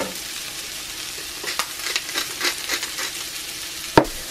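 Chicken, bacon, paprika, Old Bay and mushrooms frying in a cast iron pan, a steady close sizzle with intermittent stirring scrapes and one sharp utensil knock near the end.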